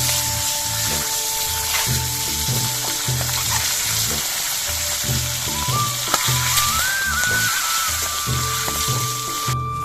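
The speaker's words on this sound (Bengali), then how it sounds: "ডিমগুলো ভেজে নিচ্ছি।" Salted, turmeric-rubbed boiled eggs frying in mustard oil in a kadai, producing a loud, continuous close sizzle with stirring clatter, a background hum and a faint whistling tone in a village kitchen.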